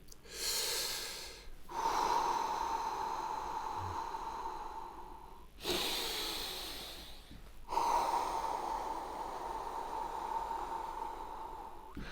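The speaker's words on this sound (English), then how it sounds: "So I'm breathing with a sound, subvocal." Slow, deliberate subvocal breaths during shamanic energy healing, with a soft, airy hum to them, like wind, alternating long inhales and exhales in a steady rhythm, close up.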